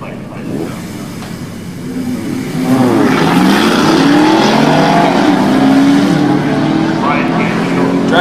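A race car's engine revs up at a drag racing track, a loud, rising roar that swells midway and holds, sweeping through gear-like pitch climbs, near and strong.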